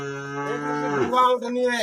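A Sahiwal cross cow lets out one long, close, loud moo that drops in pitch toward the end.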